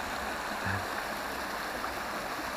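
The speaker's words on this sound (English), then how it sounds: "Nice piece of the river," Steady rushing and babbling of a flowing river beside a former railway line, close by and continuous, with no voices.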